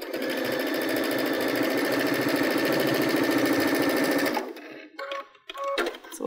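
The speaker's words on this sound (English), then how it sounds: "now you're ready to stitch your layers together" A Baby Lock sewing machine with Digital Dual Feed runs steadily, stitching layers of fabric in a close, even whir for about four seconds before stopping, followed by a few soft handling clicks.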